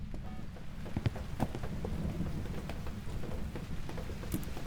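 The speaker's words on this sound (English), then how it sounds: "The rain's kind of loud, huh?" Steady rain pours in the ghost-hunting game Phasmophobia, a dense continuous hiss of drops on surfaces with a deep low rumble underneath and occasional sharper patters, no voices.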